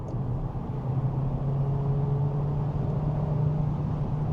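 An Audi Q3 in Dynamic sport mode gives a steady low engine drone with a held tone under road rumble, moderately loud and continuous, with no voices.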